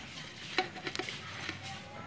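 Rice being stirred in a pan while making pinipig rice flakes, a soft dry scraping and rustling with a few light taps of the utensil against the pan, quiet and close.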